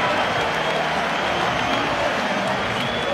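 A sellout basketball arena crowd roars and applauds steadily for several seconds, a dense wash of cheering close around.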